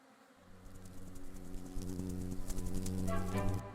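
A bee buzzes in the video game Bee Simulator, a steady droning hum that swells in loudness and holds, with faint game sounds layered on top and no talking.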